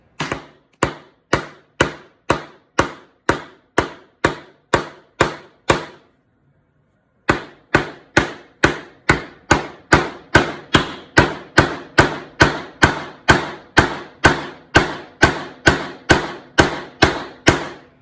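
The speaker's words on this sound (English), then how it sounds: "And then we're going to start hammering." Regular hammer strikes drive nails into wood, a long series of loud, evenly spaced blows with one short pause partway through, close by.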